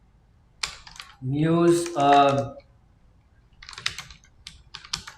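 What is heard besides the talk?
typing on a computer keyboard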